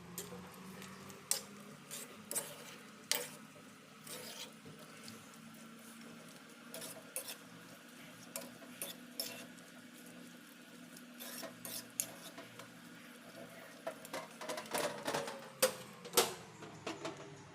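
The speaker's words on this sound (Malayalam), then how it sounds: "1/2 ടീസ്പൂൺ കായം ഇവ ചേർത്ത് നല്ലപോലെ ഇളക്കി കൊടുക്കുക." Spoon scraping and stirring lemon pickle with turmeric and asafoetida in a pan, giving faint, irregular clinks and rubbing sounds spread over a quiet background.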